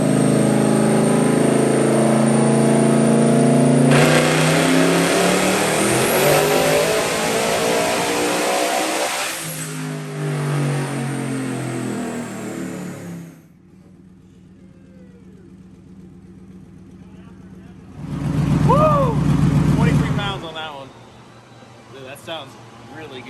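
A turbocharged engine on a dyno screams through a long, rising full-throttle pull that climbs steadily in pitch, then cuts off sharply and idles low before a second short, loud rev burst.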